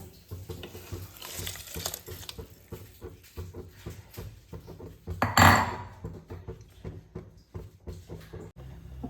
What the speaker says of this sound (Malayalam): ഒന്ന് കിഴക്കി വെച്ച അരി ഇതിലിട്ട് കൊടുക്കുക